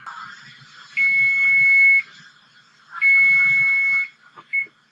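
Kitchen timer alarm going off in a home kitchen, two loud, steady one-second electronic tones with a gap between them, then a short third blip.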